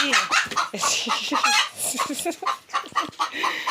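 Chickens cluck repeatedly close by in a busy farmyard, with short bursts of clucking overlapping one another.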